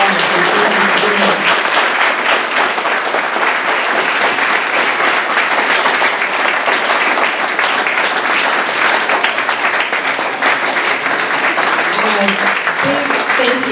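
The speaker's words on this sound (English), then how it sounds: "I would like to give you all a big round of applause" Sustained applause from an audience at a Champaign County Young Democrats women's panel event, steady and dense for the whole stretch, with some crowd murmur underneath.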